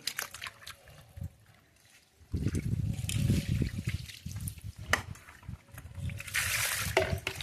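Raw chicken is washed under water, first a faint trickle and then a louder, steady sloshing and splashing of water and meat that continues close by to the end.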